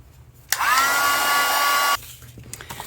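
A heat tool or dryer blasts on for about a second and a half to dry a painted mixed media craft layer, a loud steady whoosh with a whining tone that cuts off abruptly.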